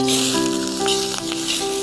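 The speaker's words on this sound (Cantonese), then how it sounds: "兜豬肉先，煲湯啊！" Pork elbow meat is stir-fried in a pan for soup, producing a loud continuous sizzle and crackle with a faint tonal hum running steadily underneath throughout.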